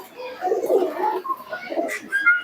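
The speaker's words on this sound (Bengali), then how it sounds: "একটা মাদিন কবুতর," A female Malbai pigeon coos softly and repeatedly at close range, its low murmuring calls mixed with faint background chatter and children's voices.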